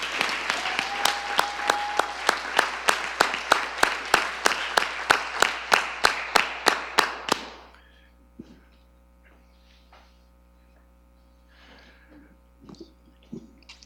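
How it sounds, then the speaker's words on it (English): Close, loud audience applause at a Cincinnati Public Schools Board of Education meeting honoring a graduating salutatorian, a dense burst of clapping for about seven seconds that then stops abruptly, leaving room hum and a few faint scattered sounds. "Come on, clap that."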